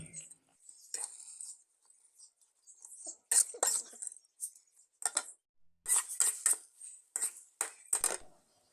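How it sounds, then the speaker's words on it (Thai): Rice noodles and water are stir-fried in a pan for pad thai: a metal utensil repeatedly scrapes and clinks against the pan in irregular bursts, close and fairly quiet, with no talk. "เราก็ใส่เส้นเล็กและน้ำลงไป ผัดให้เส้นนุ่ม"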